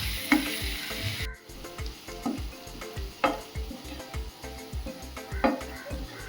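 Onions sautéing with salt in a pan give a steady soft sizzle, broken by regular scraping stirs and a few sharper clinks of utensil on metal.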